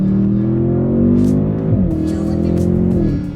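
Audi S8 sedan's V8 engine pulling smoothly under acceleration, a loud, close, steady drone whose pitch climbs gradually, with a brief shift partway through and no talking over it.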